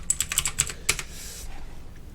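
Rapid keystrokes on a computer keyboard while entering button labels for a quadruped robot control app, a quick burst of close, crisp clicks that thins out into quiet.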